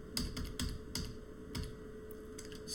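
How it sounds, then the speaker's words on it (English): Rapid clatter of keys on a computer keyboard in bursts with short pauses, close and fairly quiet, with no voices. "That's a lot of typing"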